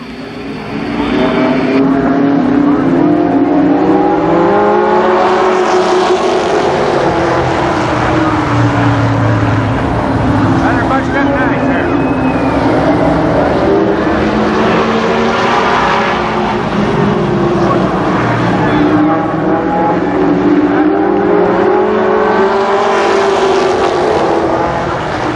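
Race cars circle the Columbus Motor Speedway oval in an 8-lap heat race in 1991, engines roaring loud and continuous with rising and falling pitch as the pack passes, without talk.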